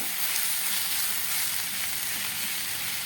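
Puff filling seasoned with salt and turmeric sizzles steadily in a pan while it is stirred, a continuous soft frying hiss at close range with no voices.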